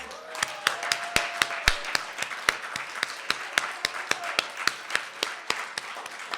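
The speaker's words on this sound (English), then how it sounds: "Let's give another round of applause." Applause at a jazz awards gala honoring a choir and gospel artist, heard as a fairly sparse clatter of individual claps with steady, distinct hand strikes over several seconds, moderately loud, with no talking.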